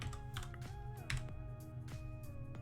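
Keys on a computer keyboard are tapped in short bursts while entering screenplay scene headings, with faint clicks over a steady bed of background music.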